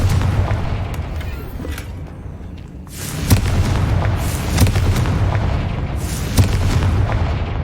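Fiery blasts from the Confringo spell in the Hogwarts Legacy video game: several loud booming explosions burst over a dense, continuous roar of battle noise.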